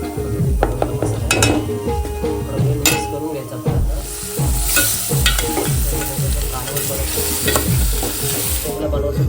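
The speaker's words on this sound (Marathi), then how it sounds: "तेल गरम झाल्यानंतर टाकलेलं आहे त्यानंतर हा मसाला तिखट मसाला" Koli masala spices sizzle steadily in hot oil while a spoon scrapes and stirs against the pan, with occasional clinks, close and continuous.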